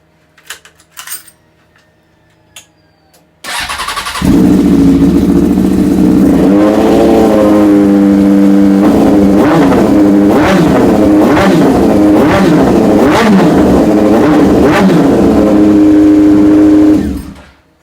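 A Honda CBR600F motorcycle engine cranks and fires, then runs loud and close, with repeated sharp revs rising and falling over a steady idle before it cuts off, after a few faint clicks at the start.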